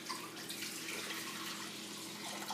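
Water and chicken broth poured into a cooking pan, a steady close splashing liquid stream that runs continuously without pause, with no voices over it.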